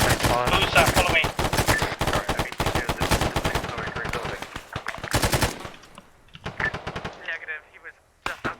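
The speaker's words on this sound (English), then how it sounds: "we're taking snipe fire" Sniper and automatic gunfire in the Arma 3 military video game ring out as dense, loud, rapid bursts of shots, thinning to scattered cracks toward the end, with some radio-style talk mixed in.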